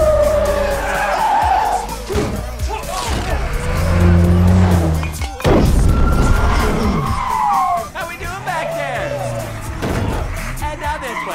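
A car from the Sonic the Hedgehog 2 film drives hard and skids, tires squealing in several long screeches over a loud engine, with scattered voices and impacts mixed in.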